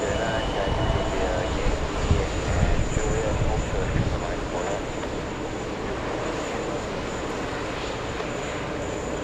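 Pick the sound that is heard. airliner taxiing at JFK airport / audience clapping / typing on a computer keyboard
airliner taxiing at JFK airport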